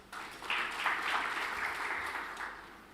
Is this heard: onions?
no